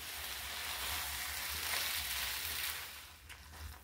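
Tomatoes frying in a pan with masala give off a steady, close sizzle while being stirred, the hiss holding evenly throughout and easing slightly near the end.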